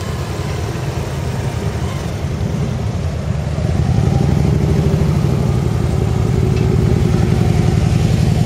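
A Sportster motorcycle engine runs steadily at close range, a loud, continuous low throb with a rough clattering pulse that swells a little halfway through as the revs rise.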